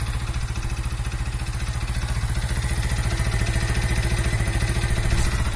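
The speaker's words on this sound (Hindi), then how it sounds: "कुछ ऐसी ही इस बाइक की आवाज है।" A Mahindra Centuro motorcycle engine with about 20,000 km idles steadily nearby, a rapid, even thumping putter that builds slightly louder toward the end.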